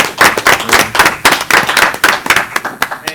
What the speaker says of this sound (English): Let's give Mr. Floyd a big round of applause because he brought this forward.